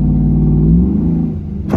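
Car engine revving through a rough gear shift, a loud low droning engine note that holds and then dips in pitch, with a brief noisy burst at the end.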